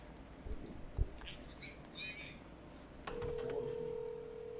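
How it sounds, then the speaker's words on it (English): Telephone ringback tone from a call being placed on a radio talk show line, a steady tone starting partway through and holding to the end over faint background noise. "I'm calling back."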